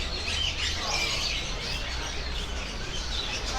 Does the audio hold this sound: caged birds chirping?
yes